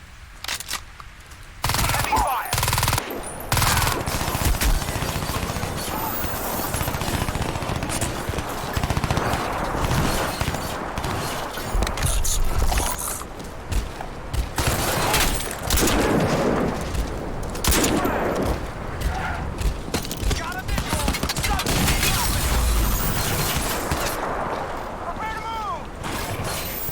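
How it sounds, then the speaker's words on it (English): Sustained heavy gunfire from the video game Crysis 2 Remastered on Xbox Series X, dense rapid bursts of shots rattling almost nonstop for nearly half a minute, loud and close, with brief voice lines mixed in. "Heavy fire!"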